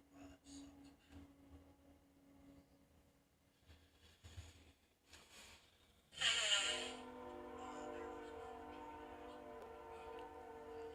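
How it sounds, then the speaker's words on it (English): A freight train passes close by, its whistle or horn suddenly blaring loud and sustained in the second half after a quieter stretch with faint talk and background rumble. "Oh my god, the train will it shut up."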